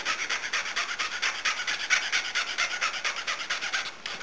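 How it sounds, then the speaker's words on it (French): Star anise pods are ground into fine powder with a metal file in a kitchen, a steady, fast rhythmic rasping with quiet, even strokes continuing throughout. "on prend des étoiles d'anis ou badiane qu'on va réduire en poudre à l'aide d'une lime"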